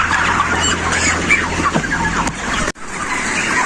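A dense flock of broiler chickens on a modern farm in Israel clucks and squawks continuously, forming a loud, crowded wash of bird noise.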